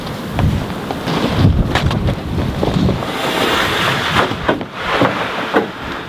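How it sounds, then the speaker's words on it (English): Strong wind buffets the microphone in gusting rumbles, loud and steady throughout with no one speaking. "it's still pretty windy outside"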